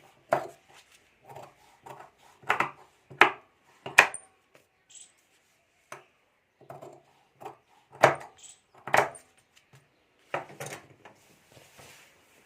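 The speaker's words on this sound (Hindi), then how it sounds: "और अब यहाँ से हमें कटिंग कर लेना है।" Scissors cut fabric for a handmade Banjara bag, giving short, crisp snips and thuds in irregular clusters against a quiet background, with no talking.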